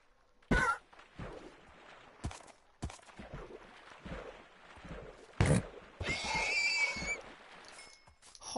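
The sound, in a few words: horse neighing as it is slain in Minecraft video game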